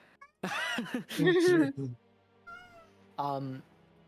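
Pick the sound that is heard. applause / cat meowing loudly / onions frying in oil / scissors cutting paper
cat meowing loudly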